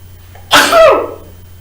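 A single sharp sneeze bursts out close and loud, a quick intake followed by an explosive release that fades within half a second, set against a quiet room.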